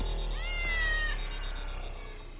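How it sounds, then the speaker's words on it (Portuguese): A domestic cat that refuses to come down meows in a single drawn-out, rising-then-falling cry, fairly close and clear over a steady low background hum, with no one talking. "O bichano não quer descer."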